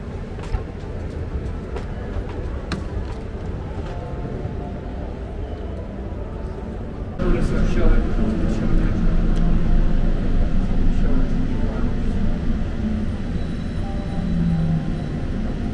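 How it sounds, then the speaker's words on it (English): An airport terminal tram in motion, a loud steady rolling rumble that grows heavier partway through as the car picks up speed, with mechanical whine and clatter and a voice faintly underneath. "We gotta take a tram."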